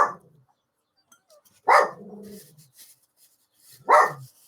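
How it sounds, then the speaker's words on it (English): A dog barks three times in short, loud, separate bursts with quiet gaps between them, recorded indoors during a live model-building session. "Apologies for the dog."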